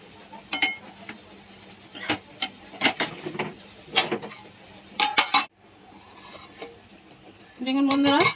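Shrimp and water spinach are stirred in a pan, with scattered metallic clinks and scrapes of a utensil against the pan. A lid is then set on with a brief clatter while a person talks nearby.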